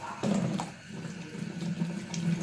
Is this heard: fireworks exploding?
no